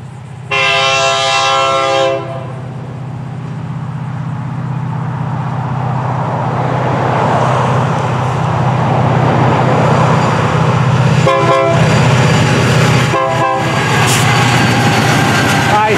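FEC 920, a southbound freight train, passes close by: a loud horn blast opens, then a long rumble of rolling cars and wheels builds steadily, with short horn or squeal accents near the end.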